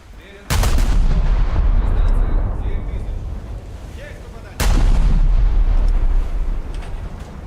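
Ship guns firing at an SKR during a naval battle video game, two heavy booming salvos a few seconds apart, each a sharp loud crack followed by a long rumbling tail over wind-like background noise.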